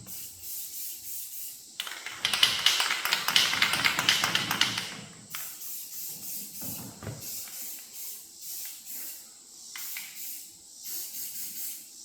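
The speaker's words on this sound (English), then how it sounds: "let's throw a coat of paint on it" Paint sprayed over a welded metal piece in a shop: a loud, steady hiss runs for about three seconds, followed by shorter, quieter bursts and some tapping and rubbing.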